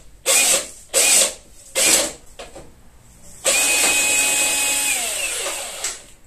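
Bursts from a power tool fitted with a socket, undoing the wheel screws on a Briggs and Stratton lawn mower under restoration: three short close whirs, a brief blip, then a long sustained run that winds down near the end.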